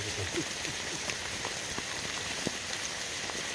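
Steady rain falling in an Adirondack wilderness forest, raindrops pattering on puffball mushrooms and the ground in a dense, close, continuous patter with scattered sharper drips.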